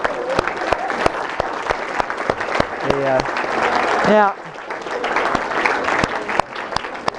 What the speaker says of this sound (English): I got more applause just now than when I got here